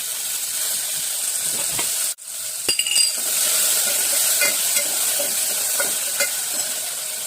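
Onion, curry leaves, asafoetida and tomato sautéing in a hot pan, a strong steady sizzle and steam hiss broken briefly by a pause, then clinks and scrapes of stirring, with no voices.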